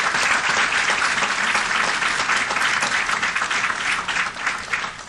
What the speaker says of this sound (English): Now give these young men a great big round of applause.